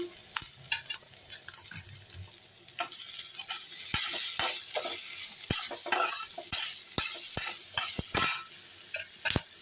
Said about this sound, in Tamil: அடுத்து இஞ்சி பூண்டு பச்சை மிளகாய் இதையும் போட்டுப்போம் நல்லா வதக்கிடலாம்